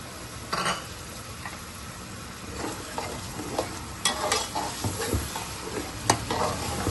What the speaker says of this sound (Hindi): ये शामिल कर देंगे और इसकी अच्छे से हमने भुनाई करनी है